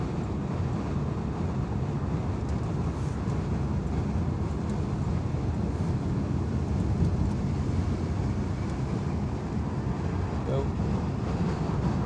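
Roaring wind buffeting a microphone inside a moving Renault Avantime with open windows and sunroof, a constant dense rumbling hiss filling the whole stretch, loud and unbroken, with no clear speech above it.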